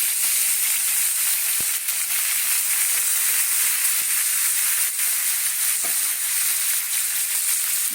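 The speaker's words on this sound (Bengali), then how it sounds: "পেঁয়াজটাকে সুন্দর করে ভেজে নিয়েছি আমি" Onion and chili frying in hot oil in a pan make a steady, close, crackling sizzle with a few sharp clinks, and no talking.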